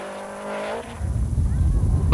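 A rally car tears along a bumpy track at the 1992–93 Qatar International Rally, steady engine drone giving way to louder rumbling and jolting road noise, loud and close throughout.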